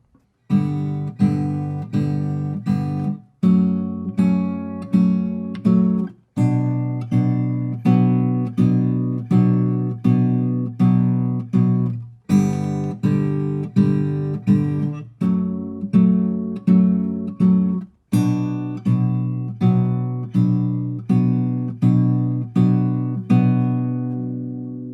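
Acoustic guitar fingerpicking a repeating chord pattern, with steady plucked notes in even groups and brief gaps between chord changes, played alone and close with no talking.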